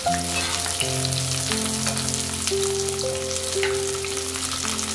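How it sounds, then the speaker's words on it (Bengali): Cut potato, pumpkin, carrot and beans sizzle steadily in a hot pan over lowered heat, a dense continuous fry with a few faint tonal hums running beneath it. "আঁচ কমানো অবস্থাতে এর মধ্যে আমি কেটে রাখা সবজিগুলোকে দিয়ে দিচ্ছি।"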